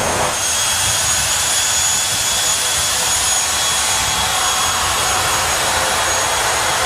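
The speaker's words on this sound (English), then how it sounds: "So Martin's going to be building up that RPM on the turbine when Richie gives him the wind it up signal." A jet-powered drag racer's turbine spools up at a 2021 STP Summer Nationals drag strip, a loud, steady, roaring whine with broad rushing noise that holds for several seconds, heard alone.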